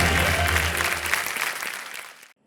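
Studio audience applause on the Kaun Banega Crorepati game show set, a loud dense burst of many hands clapping that thins out and stops abruptly after about two seconds.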